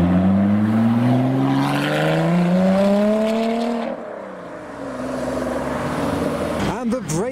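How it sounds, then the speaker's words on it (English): Audi R8 leaving a car meet at a business park roundabout, its engine note rising through gears close by, then easing off as it pulls away, with someone talking over it. "Audi R8 is leaving purple with the luminous green wheels"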